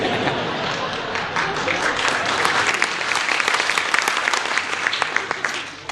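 An audience at a live Gujarati comedy show breaks into applause, many hands clapping in a dense, sustained burst that builds and stays loud, with some voices mixed in.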